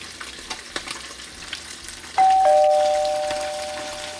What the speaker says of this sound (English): I have oil enough to go on the inside of the fish when frying